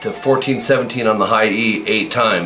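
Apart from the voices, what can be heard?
No everyday noise stands out behind the speech.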